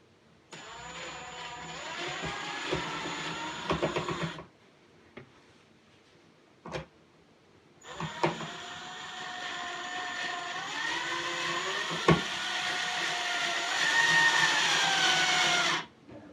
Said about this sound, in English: Get one of our screws in here.